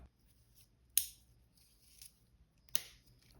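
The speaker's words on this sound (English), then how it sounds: "You can literally just tie off your string anywhere at this point and cut it off." Scissors snipping through kandi bead string, two sharp close cuts about two seconds apart with a faint click between, against a quiet room.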